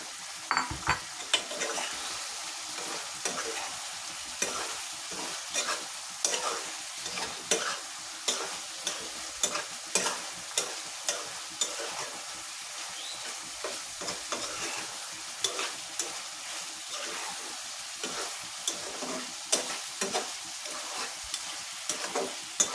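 Beef curry with fried potatoes stirred in a pot, a continuous sizzle punctuated by regular scraping and knocking strokes of a spoon against the metal, close and steady throughout with no speech.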